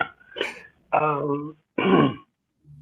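A short, rough cough or throat-clear, followed by a few low voiced murmurs and hums close to the mic.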